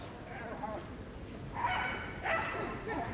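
Ten-year-old Kelpie barking during an indoor Crufts agility competition, a few sharp barks amid crowd noise in a large arena, under a commentator's talk.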